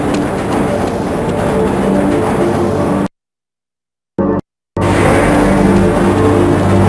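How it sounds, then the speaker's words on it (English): The Black Mesa tram from the video game Half-Life rumbles along its track with a steady, loud mechanical drone, broken by a sudden gap of near silence before the running noise resumes. "This train is inbound from Level 3 dormitories to Sector C test labs and control facilities."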